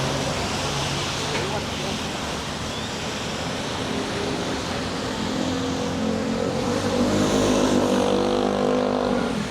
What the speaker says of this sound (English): their engines are always louder, or the exhaustion pipes from the motorbikes